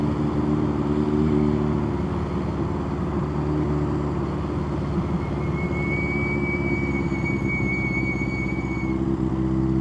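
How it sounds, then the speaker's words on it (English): A minivan's brakes squeak in slow traffic as a thin, high, steady squeal lasting a few seconds. It sits over the loud, constant drone of a retro motorcycle's engine and road noise. "I think that's the minivan's brakes squeaking."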